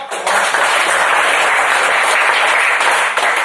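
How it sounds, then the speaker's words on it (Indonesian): An audience at a motivational talk breaks into dense, sustained applause, loud and continuous for several seconds with no speech over it. "Tepuk tangan buat Anda semua"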